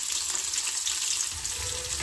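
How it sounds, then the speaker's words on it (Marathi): Onion frying in hot oil in a wok makes a steady, dense sizzle, close and even throughout, with no voices. "कांदा छान परतून घ्यायचा"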